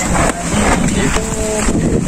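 Super typhoon wind roars and buffets the microphone in heavy gusts, a loud continuous rush with rattling and faint voices in the background.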